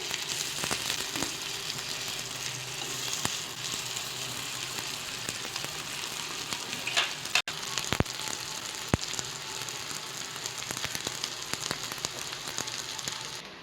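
Crispy rice kebabs fry in oil in a pan with a steady, close sizzle, broken by scattered sharp pops and a few clinks.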